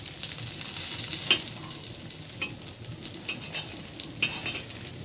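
Egg with tomato frying in a pan, a steady close sizzle broken by several soft scraping and tapping knocks of a utensil as the egg is turned, with no talking.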